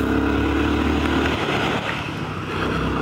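Royal Enfield Guerilla 450 motorcycle with its 450 cc Sherpa single-cylinder engine, a steady close engine drone that eases off partway through, running alone without speech.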